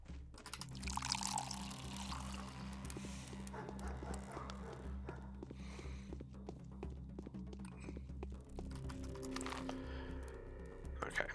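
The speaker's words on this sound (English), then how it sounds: "I believe I can drink water" Water being drunk in the video game Pathologic, a steady pouring, gulping wash mixed under continuous droning game music, with a voice faintly present.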